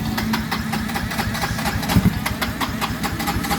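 A Yamaha Mio i 125 scooter that is hard to start and smokes heavily runs with a steady, rough idle, a low engine drone with a faint knocking pulse throughout and a couple of brief bumps near the middle.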